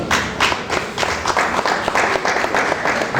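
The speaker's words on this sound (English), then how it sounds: "Round of applause to the Honorable Minister." Steady audience applause rings out for an honorable minister at a Zumunta Association event in Abuja, a continuous patter of many hands clapping at moderate loudness.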